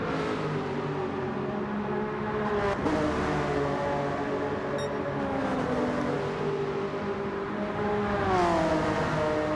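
Honda NSX race car in Gran Turismo 7 holds a steady, loud high-revving engine whine, pitch rising and dipping through gear changes as it drives on.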